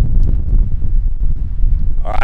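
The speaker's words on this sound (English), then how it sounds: "It's just windy. Very windy." Strong wind outdoors on the Eyre Peninsula in South Australia buffets the microphone with a loud, low, unsteady rumble that runs throughout, and a voice is briefly heard near the end.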